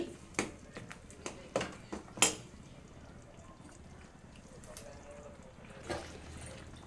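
Ground coconut milk is stirred into a vegetable curry in a pot: faint liquid swishing with several soft spoon clinks early on, then a quieter low simmer.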